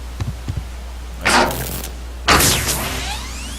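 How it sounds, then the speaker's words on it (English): A base command unit powering on in the video game Subsistence, two close swelling whooshes with a rising sweep after a few soft taps, over a low steady hum. "that sound is the command unit coming on"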